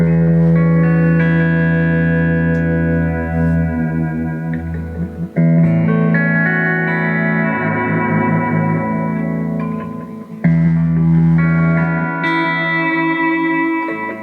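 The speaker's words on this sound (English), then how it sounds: "if we turn the delay up with the repeats, it elongates everything out" An electric guitar runs through an Analog Alien Rumble Seat delay pedal with the repeats turned up, so sustained chords smear into long echoing tails, each new strum swelling loud over the fading repeats.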